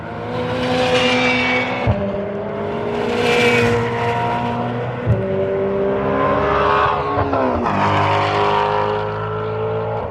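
A loud engine roars with rising revs and gear changes as a McLaren 720S drives past close by on a race track, its tone sweeping up and down.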